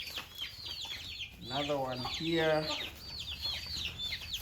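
Chickens, including hens and a rooster, cluck and squawk repeatedly and close by inside a newly built budget coop, with someone speaking briefly over them.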